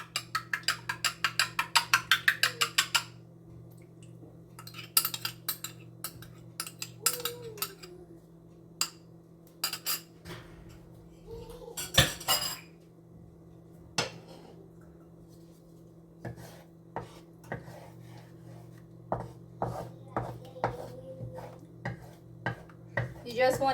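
A utensil repeatedly scrapes and clinks against a pan or kahari while an egg is scrambled for shrimp and chicken fried rice, irregular sharp metallic taps and stirs over a low steady hum, fairly quiet.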